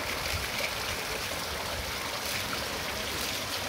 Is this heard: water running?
yes